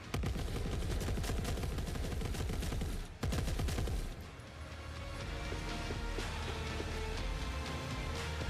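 Rapid, dense turret gunfire in the video game Forever Winter, from a 20mm turret and a regular turret, runs loud and continuous for about four seconds with a brief break, then drops to a quieter battle rumble.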